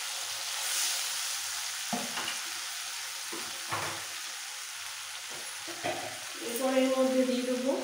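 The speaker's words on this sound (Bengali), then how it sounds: "ফোড়নটা ভাজা হয়ে গেলে এখানে রেডি করে রাখা পেস্ট মশলাটা সবটা দিয়ে দিচ্ছি" Spice paste fries in hot oil over a tempering of whole spices during Bengali khichuri and alur dom cooking, a continuous sizzle with stirring scrapes that grows louder near the end.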